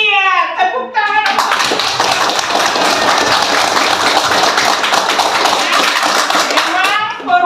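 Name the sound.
audience applause, clapping hands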